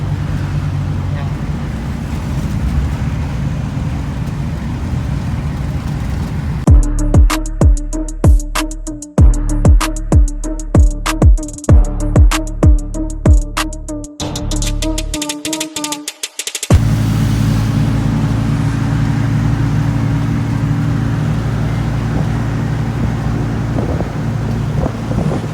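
Wind and road rumble come from a diesel owner-type double cab jeep cruising steadily on a road, with a stretch of rhythmic, beat-driven music cutting through the middle before the steady driving noise returns.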